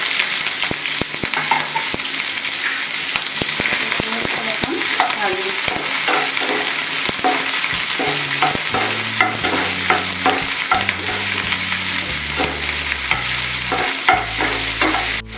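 Chopped onions frying in mustard oil in a pan give a continuous, loud, close sizzle, broken by frequent scraping stirs and clinks of a spoon against the pan.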